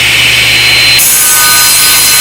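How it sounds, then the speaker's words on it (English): A saw blade cuts into wood while making a miter sled, a loud continuous grinding, rasping rip that shifts in tone partway through, close and alone. "we're going to raise the saw blade up, and we're going to make a cut that comes down here about 3 inches"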